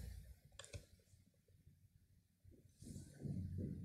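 A couple of quick, soft computer mouse clicks close together near the start, quiet against faint room noise, with no talking.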